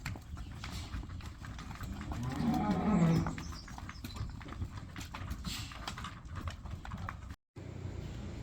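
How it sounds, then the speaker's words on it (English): A herd of cows passes close by on a rural stretch of the Camino Francés, with several loud moos over steady clip-clopping hooves and shuffling, and a brief dropout near the end. "I stopped for a cow parade."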